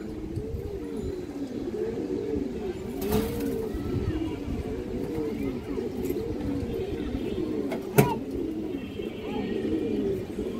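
Silver Bagha pigeons cooing steadily in a continuous chorus of overlapping rolling coos, with someone talking softly and a sharp click near the end.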